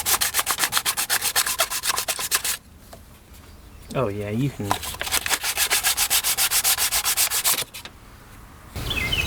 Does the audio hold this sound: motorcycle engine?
no